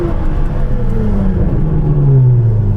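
A Ferrari 812 N-Largo fitted with a Novitec exhaust revs hard in race mode, a loud, close engine note climbing and sliding in pitch with a continuous deep rumble throughout.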